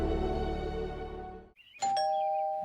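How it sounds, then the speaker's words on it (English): A doorbell chimes a clear two-note ding-dong after a fading musical passage, ringing out bright and close. "Chalmers rings Skinner's doorbell"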